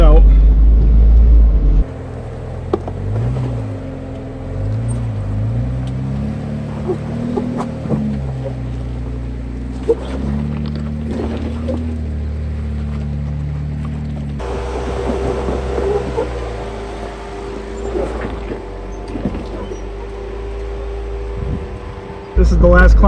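Off-road rig crawling up rocky stair-step ledges on a trail, its engine a low rumbling drone that rises and dips through the climb, with people talking over it and occasional knocks and scrapes.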